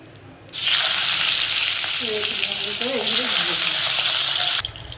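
Pabda fish fry in hot oil, a loud, dense sizzle that starts abruptly, holds steady for about four seconds up close, then cuts off sharply. A brief voice murmurs partway through.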